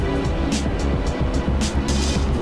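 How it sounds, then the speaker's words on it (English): Nissan GT-R GT3 race car engine in the Assetto Corsa racing game at the Nürburgring, a steady buzzing drone with rhythmic gear-shift pulses, continuous and alone without talk. "The 81 Nissan GTR running very well here at the Nürburgring."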